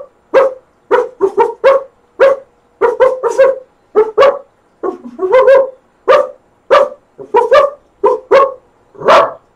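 A man imitates a dog, giving a long run of loud, close barks and yips in quick bursts of one to three with short pauses between, and a whimpering howl at the end.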